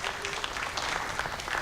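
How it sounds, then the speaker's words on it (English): An audience at an annual arts council meeting claps for the Salisbury Community Band, a brief steady patter of applause, moderately close. "give them a round of applause."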